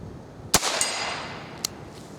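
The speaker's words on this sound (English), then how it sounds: "Still shooting at the bunny rabbit." Two sharp handgun shots at an outdoor bunny rabbit target, about a second apart, each a crisp crack with a short ringing tail, somewhat distant and moderately loud over steady outdoor background noise.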